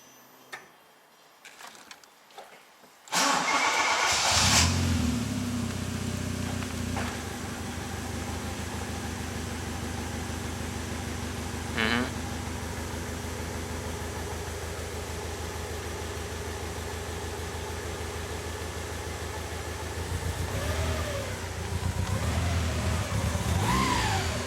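A Toyota AE86 with an unexplained fault cranks and catches after a few seconds of quiet handling sounds, then idles steadily and loudly up close, with a brief rev near the end.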